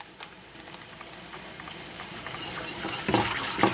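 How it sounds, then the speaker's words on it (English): A utensil stirs yogurt starter into a pot of milk, scraping and swishing softly at first, then louder and more continuous with clinks against the pot's side. "nothing else you need to do, just to stir it"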